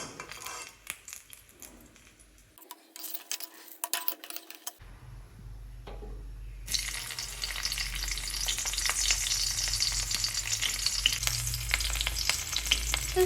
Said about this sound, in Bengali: এখন আমি বেগুনটা সবার আগে ভেজে নেব